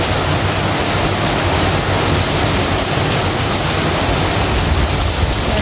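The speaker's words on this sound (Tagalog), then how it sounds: "At sobrang lakas talaga ng ulan" Heavy autumn rain with wind in seaside Rovinj, Croatia, a dense, constant roaring wash of noise that stays loud and unbroken throughout.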